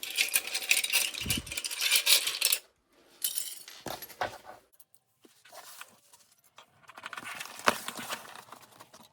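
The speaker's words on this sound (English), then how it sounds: "So I'm just going to go all the way around and clip my gusset together." Sewing clips snapping onto a fabric gusset for a backpack: a series of small plastic clicks and light handling rustles, close and irregular, with a brief quiet gap between bursts.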